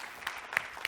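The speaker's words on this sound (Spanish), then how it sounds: "Por favor, un aplauso" An audience claps to welcome a mentor onto a stage at a panel event, a brief, fairly faint patter of applause with a few sharper claps.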